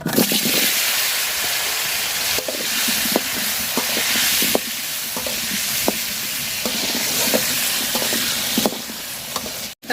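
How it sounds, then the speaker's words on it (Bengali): Potatoes frying in a pan while a Bengali country-chicken and potato curry is prepared: a steady, loud sizzle with intermittent pops and crackles, no talking. "আলুটা আগে বাজা নিব আমি"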